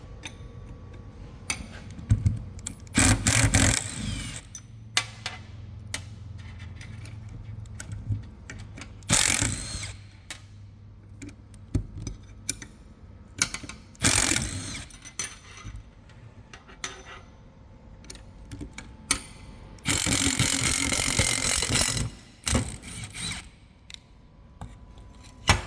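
Bolts on a drive coupling assembly are undone with a power tool, several short loud bursts of ratcheting whirr separated by clicks, taps and quiet shop handling, with no voices.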